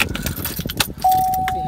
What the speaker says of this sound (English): I'm gonna put the keys in.